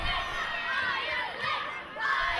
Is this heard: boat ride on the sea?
no